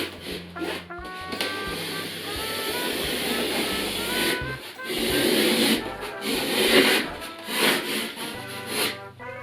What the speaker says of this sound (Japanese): 溝をつけるような感じでカッターを入れていきます。